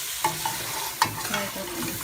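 Mutton fries in a karahi for restaurant-style mutton karahi, a close, steady sizzle with a few sharp spatula scrapes and knocks against the pan.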